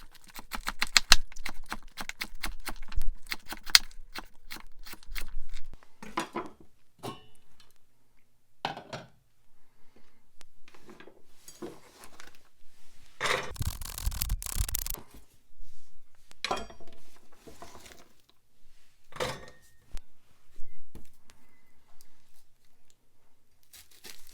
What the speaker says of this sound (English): So we're just going to quickly cut up our vegetables here.